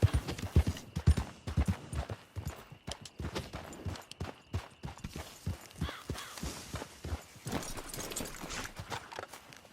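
Horses in the Red Dead Redemption 2 game clip-clop along in quick, uneven hoofbeats, close and fairly soft, the steps slowing and thinning out toward the end.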